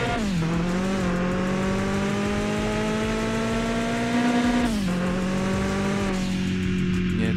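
A race car's engine revs hard at a speedway in the video game Mon Bazou, climbing steadily in pitch. It drops briefly as the gear changes, then pulls up again, loud and continuous.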